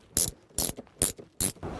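A ratchet wrench loosens car seat bolts inside a BMW F30, making four quick, close clicking bursts in an even rhythm.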